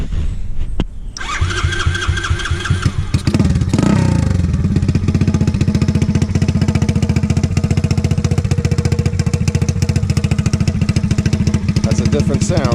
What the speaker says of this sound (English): I'll give it a start up so you can hear what it sounds like outside